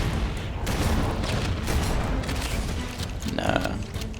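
Grenade explosions in Halo CE Anniversary, a dense stretch of heavy booms and blasts rolling together over about four seconds, loud and continuous with a sharper burst near the end.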